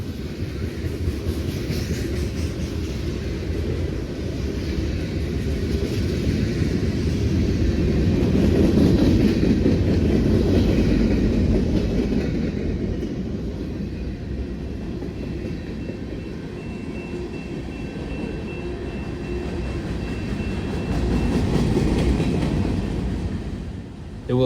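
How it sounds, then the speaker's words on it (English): A long CSX freight train rolls steadily past at close range, its railcar trucks loud and rumbling for the whole stretch, swelling near the middle with a continuous clatter and no talking. "it's usually a long train filled with junk and the loudest railcar trucks that you've ever"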